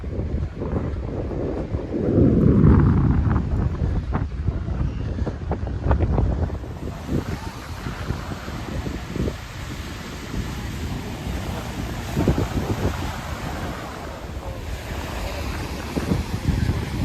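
Wind and surf at Miami South Beach, a white-sand beach with turquoise water: steady wind buffeting the microphone over a broad wash of breaking waves, with a louder gust early on, heard close with no one speaking.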